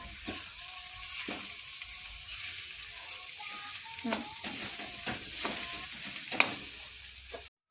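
Boiled potatoes being stirred and fried in a pan for a potato bhaji, a steady sizzle under repeated scraping stirs and occasional clinks, close up throughout.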